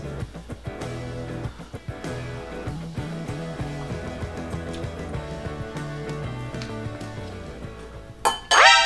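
A metal utensil clinks repeatedly against a bowl while ramen is stirred, giving a run of light, irregular taps that continue throughout over a steady tonal background and end in a louder clatter.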